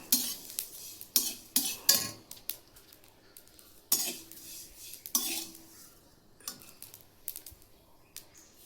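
Kasuri methi, dried fenugreek leaves, dry-roasted in a pan without oil, with sharp scraping and clinking of a spoon against the metal pan in irregular bursts, close and fairly quiet between strokes.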